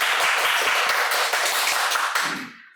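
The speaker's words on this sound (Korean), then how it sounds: "먼저 강동훈 기자를 박수로 환영하겠습니다" Audience applause welcoming a guest reporter at a Korean discussion forum on soaring house prices and financial speculation: dense, steady clapping from a crowd that carries on for about two seconds, then tapers off and fades.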